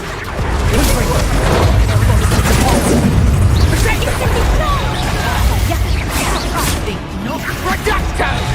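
Confringo fire spell cast during Hogwarts Legacy combat, a loud sustained blast of whooshing and crashing impacts mixed with other spell effects and game noise, steady and dense throughout.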